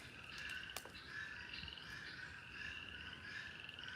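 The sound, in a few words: tree frogs croaking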